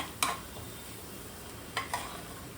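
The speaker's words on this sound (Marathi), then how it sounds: "हे चांगलं असं मिक्स करून घ्यायचं." Chole masala being stirred in a pan, a few soft scraping strokes with a faint sizzle underneath, quiet and close, with no voices.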